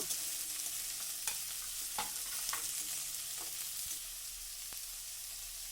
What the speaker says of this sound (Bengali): কেটে রাখা গাজর আর দিয়ে দিলাম বিনস এগুলো দিয়ে তেলের মধ্যে একটু নাড়াচাড়া করে নেব